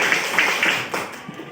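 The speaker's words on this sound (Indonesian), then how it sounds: "Tepuk tangan untuk kita semuanya." A group of children and adults clapping hands together in a classroom session, a few quick rhythmic claps over a short stretch, moderately close and fairly faint.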